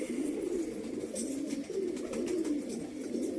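Pigeons in a breeder's loft coo in a low, steady, rolling murmur, close by and continuous, with faint background rustle.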